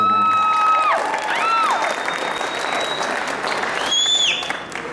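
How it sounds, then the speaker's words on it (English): Steady audience applause fills a live pitch-event crowd, with loud whistles sliding over the clapping throughout. "How about a round of applause?"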